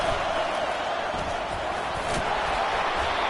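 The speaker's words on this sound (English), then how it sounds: "here comes the noise. This crowd is trying to inspire this defense to make a big red zone stop" A football stadium crowd at a Texas A&M versus LSU game roars continuously, a loud, dense wall of cheering from a packed stand that holds steady throughout.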